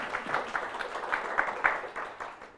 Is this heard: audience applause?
yes